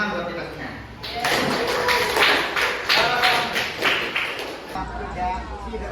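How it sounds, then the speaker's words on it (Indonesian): A group of teachers gathered for an academic supervision coaching session claps together, a dense run of close, loud hand claps lasting about four seconds before fading, with voices mixed in. "Ya, tepuk tangan buat kita semua."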